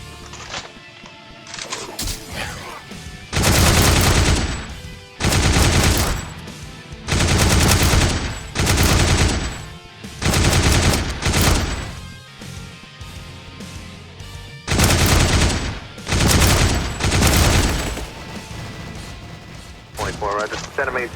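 An automatic weapon fires in the Roblox zombie game The Undead Coming: Armageddon, loud sustained bursts of rapid gunfire broken by short gaps, with voices talking between and after the volleys.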